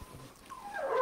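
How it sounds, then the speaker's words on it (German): A dog's rising, drawn-out bark or whine, quiet at first and swelling toward the end, heard alone with no talk. "Unser Hund bellt."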